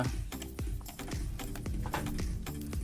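Rapid clicking keystrokes on a computer keyboard as a command is typed, close and fairly quiet, in quick irregular bursts.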